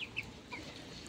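Chickens being fed give a few short, faint clucks over a soft outdoor background, with no talk.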